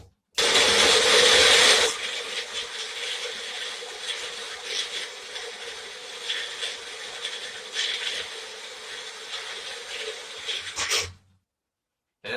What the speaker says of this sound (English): what you want to do is shake it up. I shake it up real good